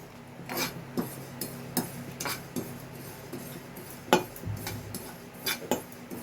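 White sesame seeds roasting in a pan, scattered light clinks and scrapes of a spoon against metal, irregular and close, fairly quiet with no talking.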